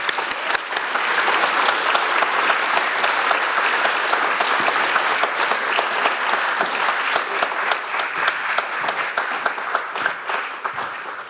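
Warm, sustained applause from a seated art-institute audience welcoming artist Jacqueline Humphries to the stage, a steady wash of many hands clapping at even loudness for about eleven seconds.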